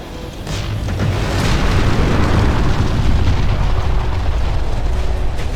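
A heavy, sustained booming blast from an enemy hoverdyne being destroyed in the Ground Control strategy game, loud and rumbling with a dense low roar that rolls on for several seconds.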